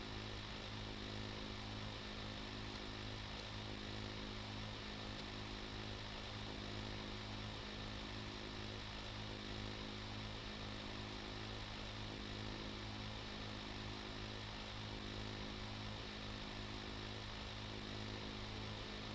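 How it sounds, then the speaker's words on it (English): Drill rig engine in the game Stormworks running steadily with a continuous droning hum and layered low harmonic tones, loud and unbroken throughout, with no voices over it. "Now we are ready to start to drill, in theory. So let's start the drill."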